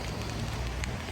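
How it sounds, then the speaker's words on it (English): Light rain patters steadily outdoors near a Korean water park, a soft, even hiss of drops on surfaces, faint and continuous with no talking. "Right now it's a bit raining"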